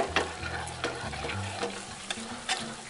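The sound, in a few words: cream poured into a pan sauce, stirred and sizzling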